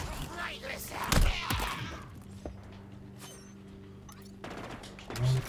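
Sniper gunfire in the Halo Infinite video game cracks out in a few sharp shots with echoing tails amid battle noise, a loud burst early on and another near the end. A voice talks over it.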